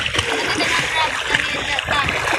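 Sea water splashing at a beach, with choppy bursts of splashes and churning water close by while people talk over it.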